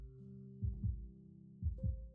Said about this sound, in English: On this quiet night, I hear my heart beating faster and faster.